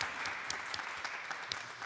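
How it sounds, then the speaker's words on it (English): Applause from a church congregation after birthday wishes during a parish church service, a steady, moderately quiet patter of many hands clapping with a few sharper individual claps standing out. "I'll give you a round of applause."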